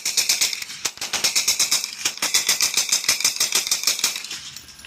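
Rapid strings of shots from a NAK9R carbine, a steady fast volley of sharp cracks with a few brief pauses, loud and close with no talking.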